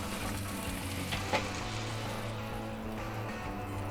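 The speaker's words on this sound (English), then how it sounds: "we're gonna sear for 2 minutes just on the back side" Meat searing on a Flame King Scorch broiler, a soft steady sizzle and crackle close by with one brief louder pop partway through.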